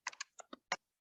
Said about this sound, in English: I'm not checking what I'm typing.